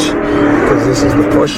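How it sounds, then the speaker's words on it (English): A car engine drones steadily with a rough exhaust note, close by, while someone talks over it. "That loud exhaust cup sound you hear, probably joyriders"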